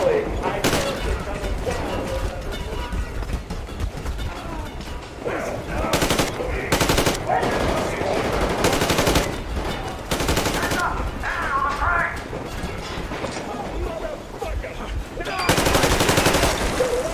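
Machine-gun fire in Metro: Exodus: long, rapid automatic bursts, loud and close, with brief pauses and a final heavy volley, mixed with game voices talking at moments.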